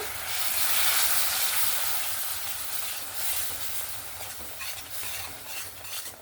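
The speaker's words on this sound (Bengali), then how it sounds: "ভালো করে মশলাটাকে বারবার নাড়াচাড়া করতে করতে এরকমভাবে কষিয়ে নিতে হবে" Ginger, garlic and tomato masala sautéed with a little water for capsicum gravy, a close hissing sizzle with repeated stirring scrapes, strongest at first and easing slightly, no voices.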